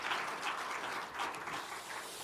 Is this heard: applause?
yes